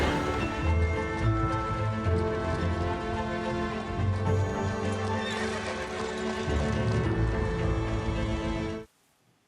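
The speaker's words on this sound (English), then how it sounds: "When a horse and carriage pulls up" Horse and carriage pulling up in a Regency-style street scene: steady clip-clop of hooves with neighing and whinnying over a rumble of wheels, loud and close, ending abruptly in near silence.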